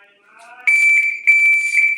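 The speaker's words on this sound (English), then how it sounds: "reacting on that B of the beep as soon as you can" Shot timer for dry fire pistol practice, sounding a loud electronic beep that holds for about half a second, followed by a second beep of similar length, close and clear, with a faint rising tone just before it.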